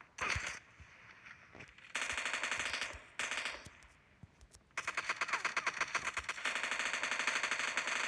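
Machine-gun fire in the video game PUBG Mobile comes as rapid loud bursts of automatic shots, several sustained strings broken by short pauses, with no talking over them.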